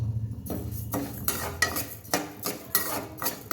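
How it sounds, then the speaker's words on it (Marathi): Rice being dry-roasted in ghee in a pan over a low flame, stirred with a utensil that scrapes and clinks against the pan in repeated close strokes over a soft, steady background. "अगदी 4 ते 5 मिनिटं मंद गॅसवरती आपल्याला हे तांदूळ भाजून घ्यायचे"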